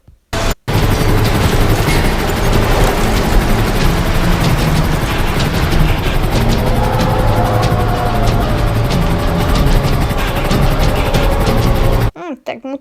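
A helicopter-like aircraft flies in the video game GTA 5, giving a loud, continuous rotor and engine roar with rapid chopping pulses that runs steadily before cutting off.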